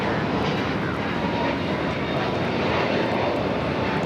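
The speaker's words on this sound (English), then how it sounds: "This is understood the assignment taking off to JFK, the A321neo, JetBlue Airways Flight 424." A JetBlue Airbus A321neo takes off at Los Angeles airport, its engines making a loud, continuous, broad roar throughout with no talking.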